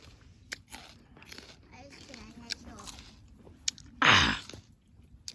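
Close biting and crunchy chewing of sour ume plums dipped in salt, with soft mouth sounds throughout and one loud, crisp bite near the end.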